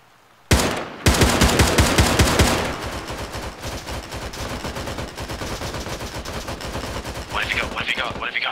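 Arma 3 video game gunfire: a loud single shot, then rapid automatic bursts of machine-gun fire in dense rhythmic volleys that continue more softly, with voices talking over the later shooting.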